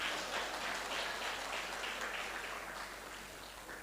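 A political rally audience claps in a distant, soft wash of applause that slowly fades out over a few seconds.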